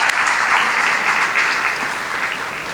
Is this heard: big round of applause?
yes